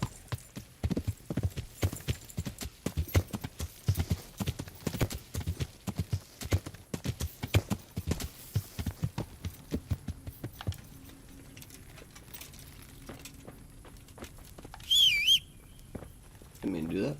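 Horse hooves clip-clop in the video game Kingdom Come: Deliverance, a rapid rhythmic trot of close hoofbeats that slows and thins out, followed by a brief whistle-like sound and a few final steps.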